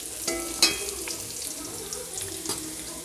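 Whole spices including bay leaf, nutmeg and brown cardamom fry in oil in a pan for tomato rice, crackling steadily under several sharp ladle scrapes and taps, with no talking.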